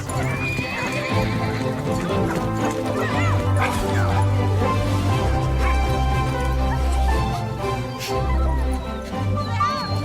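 A pack of hounds on a fox hunt barks and bays loudly on a scent amid horses' hooves and a dense, busy background din.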